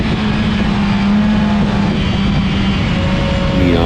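A Dodge Neon race car with a Potter-built motor runs loud and steady at a speedway oval, its engine drone constant throughout with a slight pitch shift near the end, like a car circling close by.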